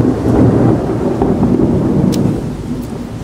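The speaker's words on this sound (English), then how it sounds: "I wasn't joking. That was the thunder." Thunder during a storm in Singapore, a loud, sustained low rumble rolling for a few seconds and slowly fading, with faint rain-like hiss and no voices.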